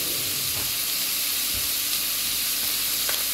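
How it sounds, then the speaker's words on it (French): A lasagne roll sauce base with spices simmers in a pan, giving a constant soft sizzle and hiss with faint bubbling and a couple of light stirring touches, close and quiet, without talking. "Et ça, on va laisser mijoter 5 minutes."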